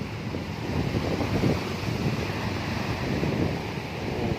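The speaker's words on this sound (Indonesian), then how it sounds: "Oke, ini dia pantainya." Waves wash continuously onto the beach at Tanjung Binuangeun in Lebak, Banten, a broad, steady surf rush mixed with wind buffeting the microphone, with no voices.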